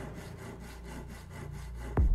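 A wooden board is sawn in a video game, heard as a rhythmic back-and-forth rasping of strokes, moderately loud and steady, ending in a sudden low thump.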